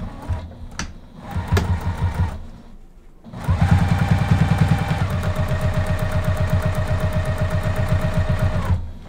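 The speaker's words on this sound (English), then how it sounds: "I'm gonna sew really close to the edge of this binding" A sewing machine stitching binding close to the edge of a quilted pot holder runs in short starts, then a long steady fast whir of stitches, loud and close, ending abruptly.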